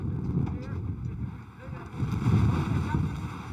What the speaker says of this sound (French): Quand le vent de sable se lève, la visibilité devient presque nulle.